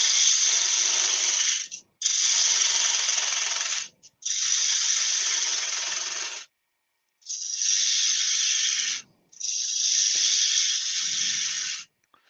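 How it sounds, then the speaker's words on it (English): A 1/4 inch spindle gouge cuts wood on a lathe in five steady, hissing passes of roughly two seconds each, separated by short silent pauses, close and fairly loud. "So we're just using this 1/4 inch spindle gouge."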